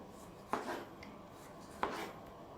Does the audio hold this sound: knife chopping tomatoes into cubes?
yes